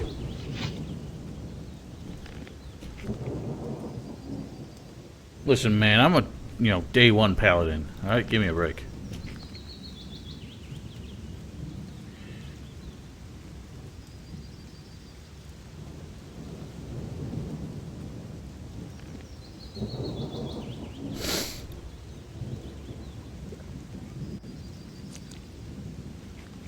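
Rain and thunder in the video game Gothic 2: a steady wash of rainfall with one loud rumbling thunderclap partway through, while someone talks over it.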